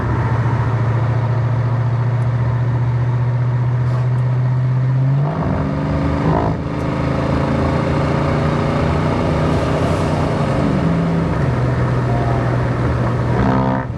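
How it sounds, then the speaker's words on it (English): A 1989 Ford Mustang LX hatchback with Flowmaster exhaust accelerates on the road, its engine note droning steadily, then rising in pitch through shifts, fairly loud and close with no talk. "Exhaust is not very loud. Obviously they're Flowmasters. When you're in the throttle you can hear it"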